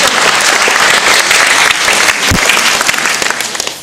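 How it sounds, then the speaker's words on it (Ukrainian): An audience at a student awards ceremony claps loudly for the award presenter, a close, continuous burst of many hands that fades slightly toward the end, with no talking. "Пожалуйста, ваши аплодисменты."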